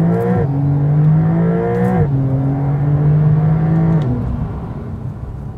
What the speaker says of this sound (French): Là, il y a une route un petit peu dégagée et on va accélérer très doucement.